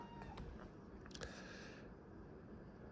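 A house cat meows faintly indoors, with two short, soft cries a moment apart over a quiet background hum.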